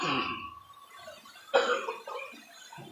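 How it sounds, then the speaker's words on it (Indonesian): A man coughs a few times, with a rough, throaty burst at the start and another sharp cough midway, close and fairly quiet. "Batuk."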